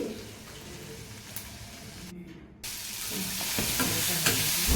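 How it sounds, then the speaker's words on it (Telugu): A tomato frying in a pan as the base for a broccoli curry, giving a continuous close sizzle with a brief drop near the middle, then louder spattering and scraping toward the end. "ఒక టమాటా కూడా వేసుకొని ఫ్రై చేసుకుంటున్నాను"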